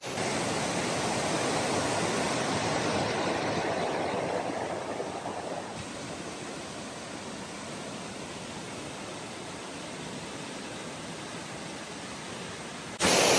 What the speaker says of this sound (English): it's really loud. The water gushing down.